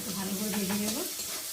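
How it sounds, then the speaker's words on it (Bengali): Sliced onions fry in hot oil with a steady, close sizzle and a low humming tone running through it. "পেঁয়াজটা একটু ভালো করে ভেজে নেবো"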